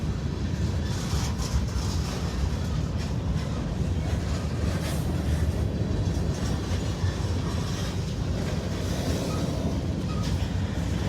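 A freight train rolls past trackside in Indiana or Kentucky, a constant loud rumble of rail cars with faint rhythmic wheel clatter lasting throughout.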